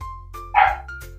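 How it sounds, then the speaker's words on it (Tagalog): A single short dog bark, moderately close, over a low steady hum. "May aso na naman."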